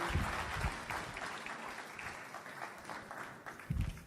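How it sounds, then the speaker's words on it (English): Warm audience applause for a speaker at an evening talk: a dense, sustained clatter of many hands clapping throughout, swelling briefly near the end, with no voices over it. "can we have another round of applause, please, for Ken?"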